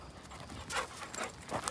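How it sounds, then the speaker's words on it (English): A dog approaching outdoors, heard as faint, rhythmic panting and quick footfalls on the ground drawing closer over a couple of seconds, with no talk. "There's a dog coming."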